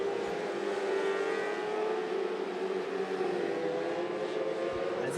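600R mini sprint race cars roar past in a heat race on a dirt oval, their engines blending into a loud, sustained high-pitched drone with shifting pitch as they circle the track.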